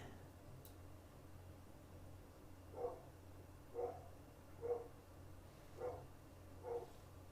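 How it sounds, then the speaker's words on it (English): A dog barks five times at a steady pace, faint and distant, over a low background hum with no talk. "I'm sure you guys hear the dog barking."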